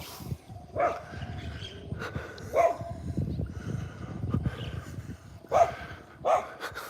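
A small Ewok-like dog barking outdoors on a morning walk in Thailand, four or five sharp yips spaced a couple of seconds apart, moderately close over wind and ambient noise.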